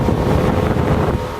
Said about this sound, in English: our fan actually moves so much air through the engine bay